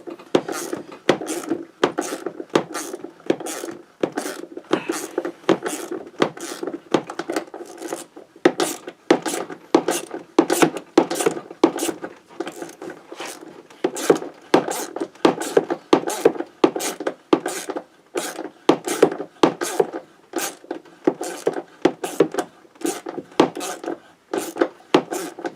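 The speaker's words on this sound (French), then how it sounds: "Quand même une vis qui a du mal à visser." A hand screwdriver forces a stubborn screw into a TNT Grido part, a long series of rhythmic, rasping scrapes and creaks repeated close up, with occasional faint talk.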